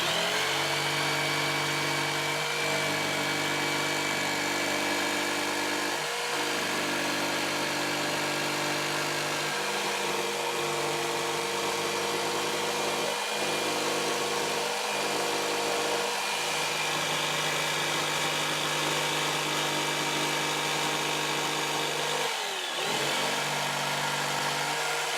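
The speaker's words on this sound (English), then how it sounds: "we'll use the jigsaw to cut the hole out" A jigsaw cuts a hole through a wooden workpiece clamped to a bench, a loud continuous buzzing whine that runs throughout with brief dips as the blade works.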